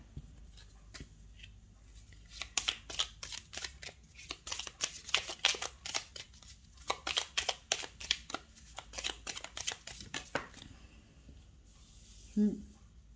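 Tarot cards being shuffled and drawn give a long run of rapid, quiet, papery riffles close by, pausing briefly midway, followed by a soft tap at the end.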